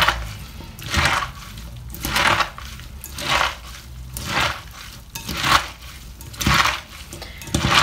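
Shredded cabbage is kneaded and squeezed by hand for vegan sauerkraut, producing close, wet squishing crunches in a steady rhythm about once a second with quieter gaps between squeezes.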